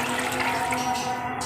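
Water pours steadily into a bowl of sugar to make lemonade syrup, a constant close splashing rush with no pause.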